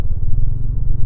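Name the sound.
Bajaj Dominar 400 motorcycle engine and exhaust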